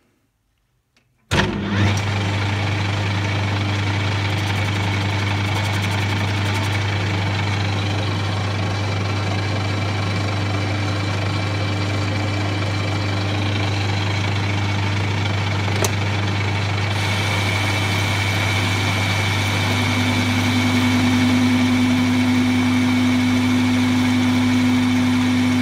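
A metal lathe running at about 610 RPM takes a heavy cut on a 2-inch steel bar, starting abruptly and then holding a steady droning hum with a constant tone, loud and alone.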